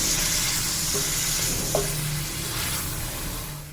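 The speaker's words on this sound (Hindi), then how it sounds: "कीमे को भून लेते हैं इसका कलर चेंज होने तक" Beef mince keema sizzles in a pan with ginger, garlic, onion and cumin, a steady close frying hiss with a couple of brief scraping stirs, no talk.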